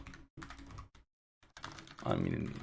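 Computer keyboard typing while entering Python code for face detection, quick clustered keystrokes in short bursts close to the microphone, broken by a pause, with a person speaking intermittently in between.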